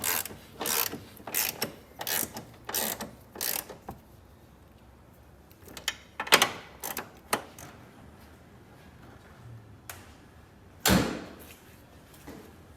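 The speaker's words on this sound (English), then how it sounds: "Tightening the shock tower brace." A ratchet wrench tightens the shock tower brace on a Porsche 993 in bursts of rapid clicking, close and fairly quiet, with pauses and a few scattered knocks between.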